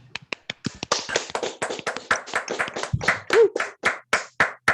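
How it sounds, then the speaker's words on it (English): Several people clap vigorously over an online video call, sharp separate claps at first that thicken into a steady, close patter of overlapping hand claps lasting several seconds, with no talking. "Clap vigorously."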